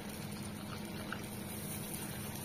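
Small sabudana balls slide into hot frying oil a few at a time, raising a steady, dense sizzle and bubbling that holds evenly throughout, close by and fairly quiet.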